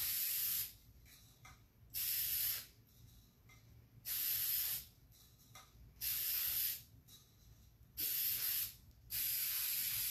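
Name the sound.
spray paint can spraying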